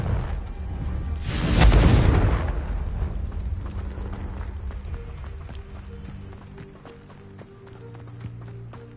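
A Confringo blasting curse in a Harry Potter video game erupts in a loud, booming explosion that swells and rumbles for about a second, then fades into lingering debris crackle and a low tonal game soundscape.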